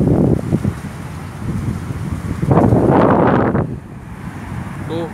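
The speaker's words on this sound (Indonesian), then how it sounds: "Wih, anginnya gede." Strong wind buffets the microphone outdoors beside a large parking lot near a Riyadh ring-road toll highway, loud rumbling gusts that swell and fade, with a brief surge in the middle.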